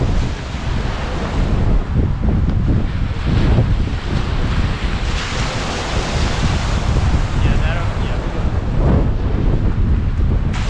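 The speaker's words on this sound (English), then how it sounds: "I think it's just the water being blown by the wind" A sustained roar of surf and wind-whipped water fills a beach, dense and close, with gusts thumping the microphone and small swells of louder wash every few seconds and no break in the noise.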